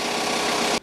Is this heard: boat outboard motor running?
yes